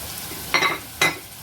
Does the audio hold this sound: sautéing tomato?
yes